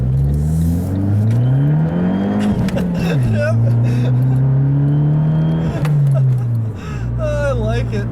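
A 2013 Fiat 500 Abarth with a manual gearbox accelerates hard in first gear, its close, loud engine note climbing steadily in pitch, dipping briefly at a shift, then rising again.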